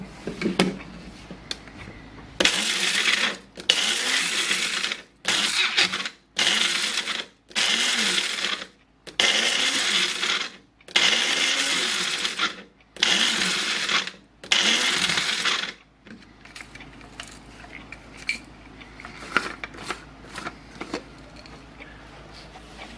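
A blender pulses dried cayenne peppers in about nine loud, short bursts of grinding whir. Quiet pauses separate the bursts, and faint handling noises follow once the last one stops.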